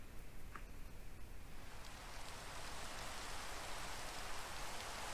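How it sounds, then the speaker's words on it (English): Steady rain falls in Minecraft with the Nyctocosm datapack, a soft continuous hiss that swells slightly louder partway through, with no voices over it. "If the weather starts to rain"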